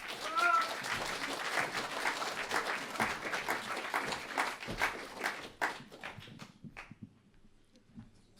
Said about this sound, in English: you get clapped before you've said or done anything, just as it just happened